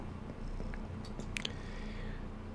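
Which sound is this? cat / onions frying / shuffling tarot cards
cat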